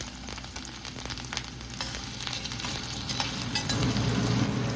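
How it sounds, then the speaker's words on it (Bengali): Potatoes fry in a pan with a soft, steady sizzle while a utensil stirs and scrapes now and then, close and moderately quiet, the crackle swelling slightly toward the end, with no voices. "আলুটা ঢাকা দিয়ে ভেজে দেবো যাতে তাড়াতাড়ি হয়ে যায়"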